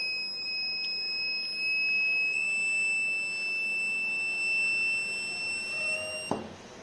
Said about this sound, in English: the illumination of the LED light and the buzzing of the buzzer